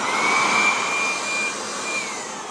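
A 20V lithium cordless electric leaf blower runs close by, giving a steady airy whoosh with a thin motor whine that dips slightly partway through, with no talking.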